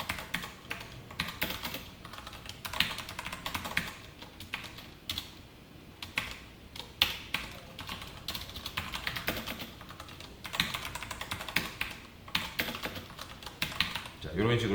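Fast typing of JavaScript code on a computer keyboard comes in quick bursts of clicking keystrokes, close and clear, separated by short pauses.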